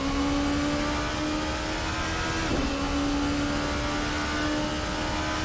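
The VRC ByCollin P1 prototype race car from Assetto Corsa, driven at the 4 Hours of Daytona, holds a steady, loud, high-pitched engine drone with a whining tone that barely changes throughout.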